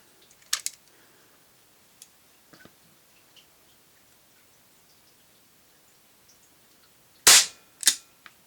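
Crosman air gun shots fired at a target: two sharp, loud cracks near the end following quieter scattered ticks and a faint early pop, otherwise near silence, heard up close with no talk.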